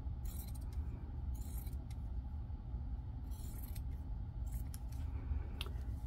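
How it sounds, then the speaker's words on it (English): Squeaking scissors snip through fabric and thread while a vintage-style needlebook is made, giving short high squeaks and snips in several bursts over a steady low background hum. "These scissors squeak, don't they?"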